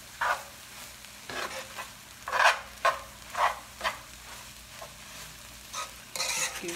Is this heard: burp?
no